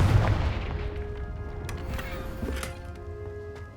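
In Hogwarts Legacy, a Confringo spell detonates with a heavy booming blast. The deep low-end thud is followed by a rumbling decay and scattered fainter impacts.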